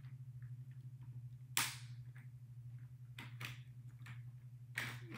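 Chauchat machine gun fired single rounds with the bolt pulled back between shots: three sharp, loud reports spaced well apart, over a steady low electrical hum.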